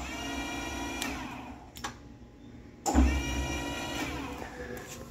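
A Willis PK lathe carriage runs at rapid traverse, giving a steady mechanical motor whine with a short start-stop gap partway through, then resuming louder and continuing at an even level.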